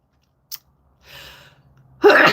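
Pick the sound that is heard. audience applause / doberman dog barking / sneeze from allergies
sneeze from allergies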